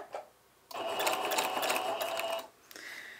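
A sewing machine fitted with a walking foot stitches through quilt layers in one quick burst of rapid, even needle clatter lasting under two seconds, with a brief whir after a short pause.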